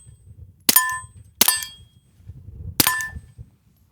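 Three sharp suppressed 9mm pistol shots through a Whisperstrike Slim 9 suppressor, fired at uneven intervals, each a short loud crack with a metallic ring and quick decay over a low background hum.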